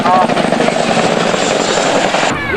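A large helicopter flying nearby, its rotor producing a loud, steady rumbling throb that continues without a break throughout.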